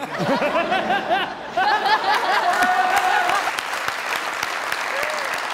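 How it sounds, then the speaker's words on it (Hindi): The studio audience of a comedy talk show gives loud applause mixed with chuckles and laughter. Talk is heard at the start, then a full, sustained burst of clapping follows. "जोरदार तालियां"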